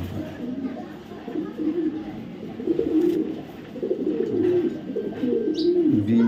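BRPFC club young racing pigeons from 2024 coo in repeated low, throaty rolling calls close by, with someone talking over them.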